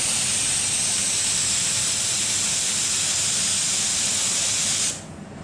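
A spray gun dusts light coats of paint onto Lambretta scooter bodywork, giving a loud, steady airy hiss that runs for about five seconds before cutting off abruptly.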